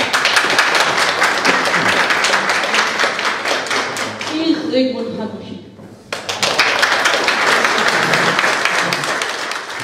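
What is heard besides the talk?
audience applause for studio guest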